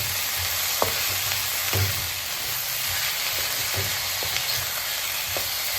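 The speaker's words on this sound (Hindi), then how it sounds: "कम तेल में 1 टेबलस्पून ऑयल, सब इसको थोड़ा सा कुक फ्राई करूँगी" Food frying in a tablespoon of oil in a pan, a steady close sizzle and hiss with occasional soft stirring scrapes, no voices.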